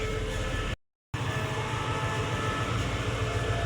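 Rapid train 139 rolls into Rangsit station with a loud, continuous rumble of railcars and steady wheel noise, briefly cut out before resuming.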